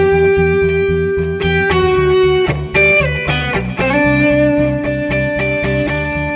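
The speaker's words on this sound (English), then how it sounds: "Let's add a little distortion." Distorted electric guitar plays a repeating melodic line over a steady, pulsing low rhythm, loud and continuous with sustained harmonic notes and occasional bends.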